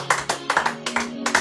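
Rhythmic hand clapping in quick, even beats from a church congregation, with a sustained musical tone underneath.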